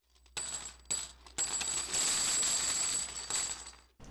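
Coins are handled in a bag, Civil War tokens jingling and clinking close up in several short shakes and then a longer continuous rattle, with no voices.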